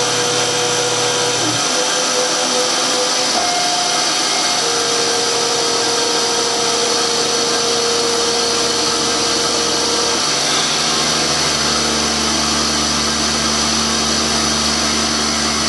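Milling machine spindle whirs steadily while cutting a piece of scrap aluminum, a loud continuous machining drone with sustained tonal whines that shift pitch partway through, no voices.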